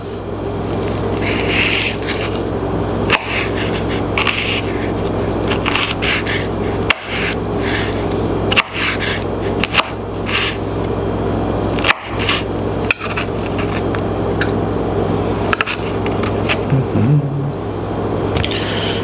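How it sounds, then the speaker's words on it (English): A knife minces pepperoncini on a wooden cutting board, giving repeated close chopping thuds and wet squishing scrapes in an irregular rhythm over a steady low background hum. "we're going to take a peppercini, mince that up a little bit, cut it up small"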